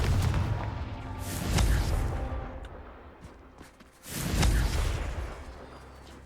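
Two heavy Confringo spell blasts from Hogwarts Legacy boom a few seconds apart, each a loud low rumbling burst with a fiery whoosh that swells and then fades away.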